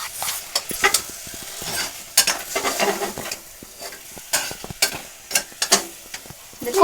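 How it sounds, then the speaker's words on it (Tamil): A spoon stirs chicken biryani in a hot pot, making close, repeated scraping strokes over a soft sizzle, with irregular clanks against the metal. "இப்போ கிண்டி விடலாம்."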